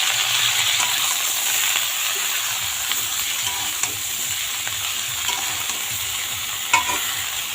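Mixed vegetables seasoned with salt and turmeric sizzle in a pan while a spatula stirs them, a steady close frying hiss with soft scraping strokes and an occasional clink.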